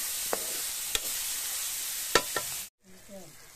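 Spices and salt being stirred into a pan of wild kandigole vegetable, a soft continuous sizzle with a few sharp scrapes of the spoon against the pan, then a sudden cut to quieter stirring.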